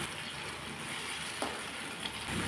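Spices and potatoes fry in a pan for a pea and paneer curry as a little spice-rinsing water goes in, giving a steady loud sizzle with faint stirring scrapes and a brief splash.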